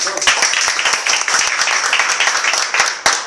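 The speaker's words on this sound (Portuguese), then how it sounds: "Salve de palmas ao Senhor Jesus." A church congregation claps steadily together in praise, loud and close, with a brisk, continuous rhythm of many hands and a few voices calling out beneath it.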